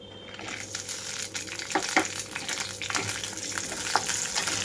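Slit green chillies fry in about two tablespoons of oil over a low flame for tomato chutney. A steady close sizzle runs throughout, with a few louder pops and crackles and occasional stirring scrapes.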